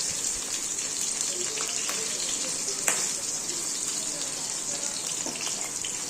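Cut green chillies sautéing in a pan for a potato and peas kurma, giving a steady, continuous sizzle and frying hiss throughout with a few faint clinks, fairly close and with no talk.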